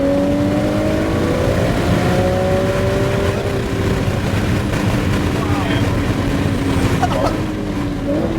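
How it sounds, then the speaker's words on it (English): A GT car at Sonoma Raceway accelerates hard on track, its engine note climbing loudly and continuously with rising pitch, close and dominant, while a voice talks over it. "roll on that gas and accelerate"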